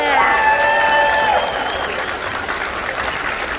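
Convention closing-ceremony crowd applauding, a steady loud wash of clapping with some cheers and a whistle early on, holding fairly even before easing slightly at the end.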